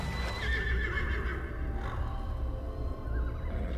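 A unicorn horse in the Gwent card game lets out a drawn-out neigh and whinny, fairly close and clear over a low rumbling background.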